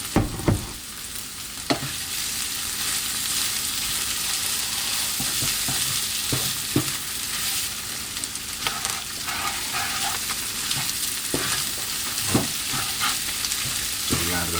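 Green beans with spices stir-fry in a hot pan, giving a steady loud sizzle broken by the scrape and clack of stirring, with a brief bit of speech.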